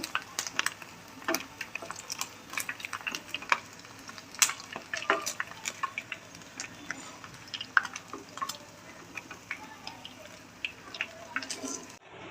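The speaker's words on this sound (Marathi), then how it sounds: "बघा अशा प्रकारे मी दोन्ही साईडनी पनीर छान तळून घेतले" Paneer cubes frying in oil in a pan, giving a steady crackling sizzle with quick pops and light spatula taps throughout.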